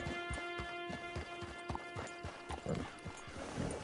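Horse hooves in the video game Red Dead Redemption 2 clip-clop in a steady walking rhythm, crisp and close, over a faint tonal hum.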